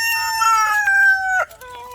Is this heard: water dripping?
no